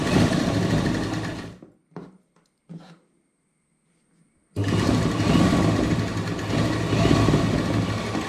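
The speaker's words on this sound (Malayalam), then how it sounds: "സൂചി ഞാൻ കുത്തി നിർത്തി അടിക്കുന്നത് കണ്ടോ" A sewing machine stitches piping onto a churidar neckline, running in loud steady bursts, stopping for a few short jabs and a near-silent pause, then whirring continuously again.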